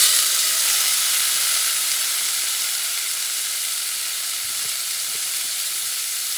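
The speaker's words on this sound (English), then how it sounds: "I'm going to put the tomatoes." Tomatoes hit a hot pan set a couple notches above medium, sending up a loud, bright hiss that fades only slightly and holds steady with no talk.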